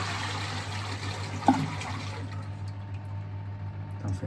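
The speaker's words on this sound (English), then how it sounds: "flush it again and see what happens" A toilet being flushed during a plumbing repair, the water rushing and gurgling steadily for several seconds with a low hum underneath, a brief clunk partway through, then the flow tapering off.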